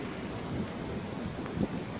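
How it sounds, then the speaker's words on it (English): Heavy, torrential monsoon rain pours in a dense, unbroken roar, with a low rumble underneath and a slight surge near the end, steady and close. "hardcore rain"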